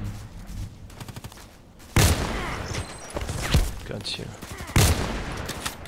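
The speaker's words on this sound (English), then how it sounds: "Cool, I could shoot two times this time" Orsis T-5000 sniper rifle firing in the shooter game Contract Wars: two loud, sharp shots a few seconds apart over a busy background of distant gunfire, with a voice speaking briefly between them.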